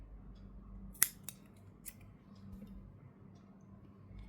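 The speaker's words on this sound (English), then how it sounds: "I'll cut the extra yarn" A single crisp snip of scissors cutting off extra yarn from a crochet bow, followed by a couple of fainter clicks against a quiet background.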